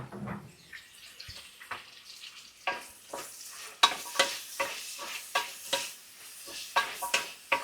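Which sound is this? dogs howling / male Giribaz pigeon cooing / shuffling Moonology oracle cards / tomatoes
tomatoes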